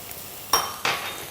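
Garlic hits hot onions frying in a pan in a home kitchen, two quick bursts of sizzling with a faint utensil clink, close and loud against a quiet background, no speech.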